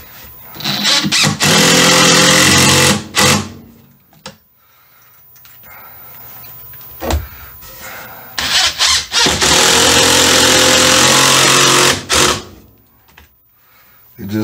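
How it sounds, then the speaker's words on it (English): A power driver runs a screw through a board into a water-damaged subfloor in two long, loud bursts, one around the first three seconds and another from about eight to twelve seconds, with quieter pauses and brief clicks between. "what I'd like to do is screw it to the floor first before I attach it to the joist"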